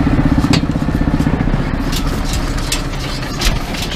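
A 6060 tractor engine runs while baling winter barley straw in a field, giving a steady, close, throbbing drone with rapid low pulses and a few brief higher clanks from the baler.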